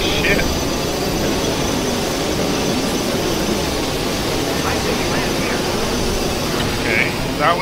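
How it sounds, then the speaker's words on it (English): Loud, steady airplane engine roar inside a video game, a continuous dense drone that stays level throughout, with a voice talking over it. "Why does this plane sound so loud?"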